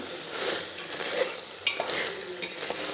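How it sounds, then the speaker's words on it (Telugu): Gongura mixture with tamarind, tomato and rock salt frying over a low flame while being stirred in a pan, a steady sizzle punctuated by a few sharp scrapes and clinks, close up, no voices. "సో అలాగే నేను రాళ్ళ ఉప్పు కూడా యాడ్ చేసుకొని ఫ్రై చేసుకుంటున్నాను."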